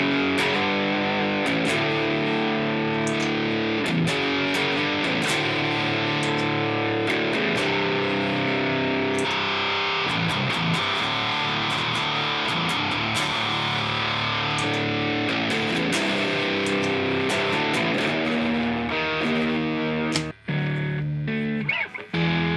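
Electric guitar played through a high-gain distorted patch on a Line 6 HX Stomp, thick saturated chords and riffs ringing continuously, loud and upfront, ending in a few choppy stops.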